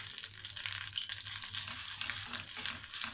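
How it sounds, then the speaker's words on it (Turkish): A lentil soup sauce of chili flakes, black pepper and mint sizzles in a pan as it is stirred, giving a short burst of close crackling hiss with a faint tonal hum underneath. "İyice karıştırıp kapatıyorum."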